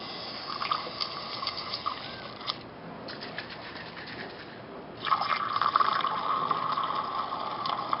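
Cleaning liquid flushes through a Porsche Weber carburetor being rebuilt, making a steady close hissing spray that eases off for a couple of seconds midway, then surges back louder.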